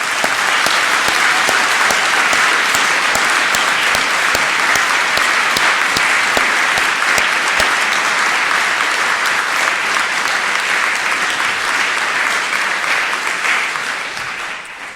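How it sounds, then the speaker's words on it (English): A large audience at a university winter graduation ceremony applauds the graduates, loud, dense and sustained clapping that holds steady before tapering off in the last second. "I think that deserves an extra round of applause."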